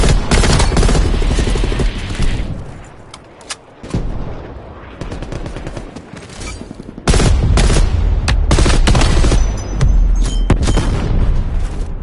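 Heavy artillery fire in a military video game on PS4, loud booming blasts and rapid gunfire rolling continuously, with a brief lull before a renewed barrage.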